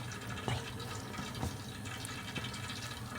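Cold tap water runs and pours into a container in a kitchen, a soft steady splashing stream with a few faint knocks, close and fairly quiet with no talking.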